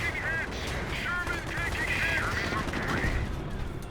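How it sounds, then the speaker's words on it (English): MG42 machine gun bursts in a Company of Heroes 1 match, rapid rattling fire layered over dense battle noise with distant gunfire and explosions, continuous and loud throughout. "MG42 hitting these intersections"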